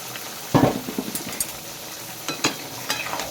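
Fried potatoes land in a pan of cooking goat meat with a loud sizzling burst, and then come several rounds of stirring: scraping, spoon knocks against the pan and fresh sizzles, all close up and with no talk.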